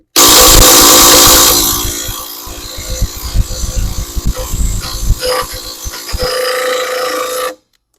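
Makita XWT13 impact wrench hammering rapidly against a stubborn lug nut that won't come loose, a loud close burst of rattling impacts that keeps going for several seconds before stopping abruptly.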